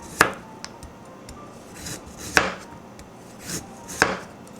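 Knife chopping through thick carrots on a cutting board, a few separate sharp chops spaced about two seconds apart, close and clear with no talking.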